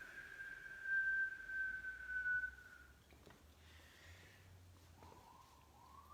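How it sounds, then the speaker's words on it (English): A whistling exhale during a breathing exercise: a thin, steady tone held for a couple of seconds, then a softer, shorter whistle trailing off, with no talk. "as you exhale with a whistling kind of sound"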